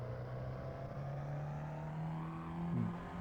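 Simulated car engine in a racing simulator, a steady low drone that rises as the car accelerates out of a roundabout, with a brief surge of revs near the end and no talking.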